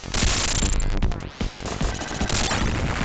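Rapid, dense gunfire and explosive blasts from the Sega Mega Drive game Contra: Hard Corps during a boss fight, loud and nearly continuous with a brief dip midway.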